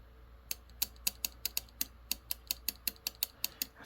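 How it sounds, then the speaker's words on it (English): Honeywell WV4460E2022 water heater gas valve solenoid actuating on low voltage, giving a quiet, quick series of sharp, evenly spaced mechanical clicks with nothing else around them. "The valve is actuating."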